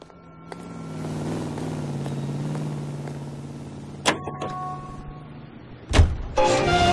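Car sounds in the video game LA Noire, with a steady engine hum that rises and falls, then a sharp door clunk, another heavy slam and a burst of louder movement noise.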